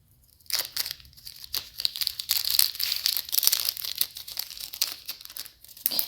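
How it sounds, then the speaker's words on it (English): Crinkling plastic bag rustles steadily and close up, with repeated crackling bursts after a brief quiet start and no voices. "we'll put them in the plastic bag"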